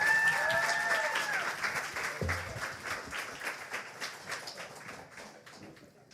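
A room full of people at an environmental event in Quebec claps warmly to welcome a speaker, the applause starting strong and gradually thinning out, with a brief electronic whistle of feedback at the start.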